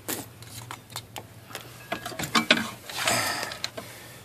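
The electronic brake caliper motor on a 2008 Volkswagen Passat whirs and ratchets in a run of rapid mechanical clicks, close and moderately loud, with no talk over it.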